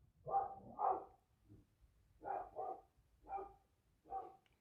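A dog barks repeatedly at a moderate distance, sharp barks in pairs and singles with brief pauses between them.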